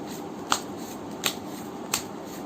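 A deck of normal playing cards being shuffled, three short crisp riffles spaced roughly evenly apart, quiet and close with a soft room hiss between them.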